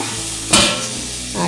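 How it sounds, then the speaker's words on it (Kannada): Water splashes into a hot pan of chicken for chicken sukka, a loud sizzling burst rising suddenly and then settling into a steady hiss, with a brief clink of a utensil near the end. "ಈಗ ಚಿಕನ್ನು ಮಿಕ್ಸ್ ಮಾಡಿಟ್ಟ ಪಾತ್ರೆಯಲ್ಲಿ ಸ್ವಲ್ಪ ನೀರು ಹಾಕ್ತಿದ್ದೇನೆ."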